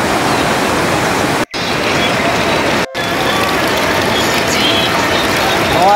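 Flowing stream water in rural hill country, a loud, dense, constant rushing roar close by, broken by two brief dropouts, with no talk over it.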